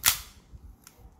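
A KJW 1911 airsoft pistol on green gas or CO2 fires a single sharp, loud blowback pop, with a faint mechanical click shortly after.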